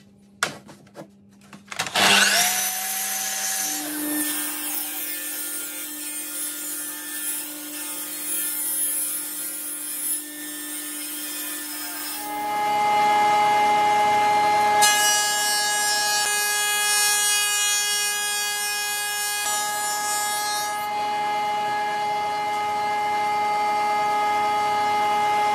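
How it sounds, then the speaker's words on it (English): A table saw spins up to a steady whine, then bites into a painted board to trim its edge, the pitch and roar shifting as the blade cuts through. The saw runs loud and close, with no talking. "on the table saw, going to cut this edge off because it's got paint and it's got other stuff in it as well"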